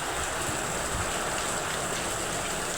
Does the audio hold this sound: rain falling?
yes